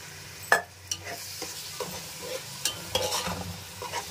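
Pounded onions with ginger garlic paste fry in a pan for a fish curry, a steady close sizzle broken by repeated scraping stirs and a few sharp utensil knocks.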